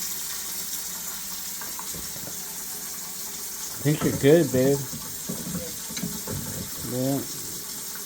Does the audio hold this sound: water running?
yes